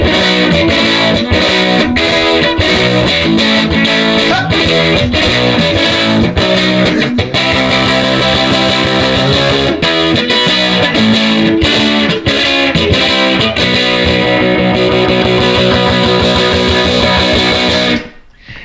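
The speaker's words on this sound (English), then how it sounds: "Can you throw me a little more punk chords with no reverb so we get that full punk effect?" Punk chords ring out through a 1970s Fender Twin Reverb amp with JBL speakers and no reverb, a loud, dense, distorted electric guitar strummed steadily for about eighteen seconds before cutting off abruptly.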